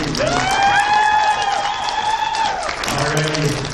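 Crowd applause with some cheering rises at a poetry slam event, loud and close, while a sung or held voice rings over the clapping for most of its length.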